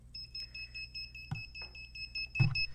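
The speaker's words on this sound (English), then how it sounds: "Alarm is active. Mass alert." Mass alert alarm on a privacy-focused phone, sounding as a steady high electronic tone overlaid with a few short beeps, moderately loud against quiet room noise with no speech.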